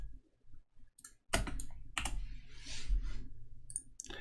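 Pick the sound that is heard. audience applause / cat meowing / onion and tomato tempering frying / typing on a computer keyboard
typing on a computer keyboard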